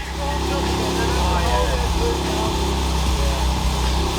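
A BMW M4 engine runs steadily at idle, a continuous low mechanical drone throughout, close by, with a person speaking over it.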